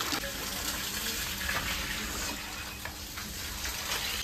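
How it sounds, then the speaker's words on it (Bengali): Mangoes rinsed under a running tap, a steady gush of water splashing for the whole stretch, fairly close and without any talk. "আমি সুন্দর করে আমগুলো ধুয়ে নেবো।"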